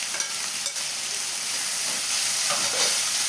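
Halved dried red chillies and onion fry in a pan with a steady, close sizzle and soft stirring crackles.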